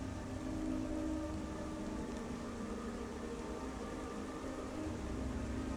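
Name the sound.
rain outside a mortuary in a video game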